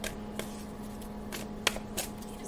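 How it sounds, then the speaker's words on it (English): Tarot cards are shuffled close by, quiet papery riffles and soft slaps of the deck in a few brief bursts over a faint steady hum. "I'm sorry if you can hear banging and crashing while I'm shuffling"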